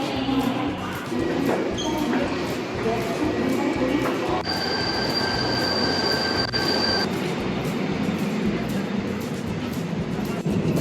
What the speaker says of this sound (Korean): 제가 목적지까지 가려면 기차를 타야 하는데요.